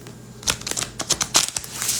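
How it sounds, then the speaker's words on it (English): A deck of oracle cards is shuffled by hand, giving a quick run of crisp riffling flutters and taps close up that ends after a couple of seconds. "But it's the second good shuffle, I think."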